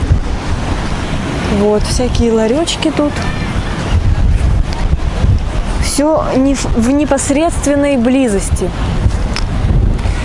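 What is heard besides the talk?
wind on Azov Sea beach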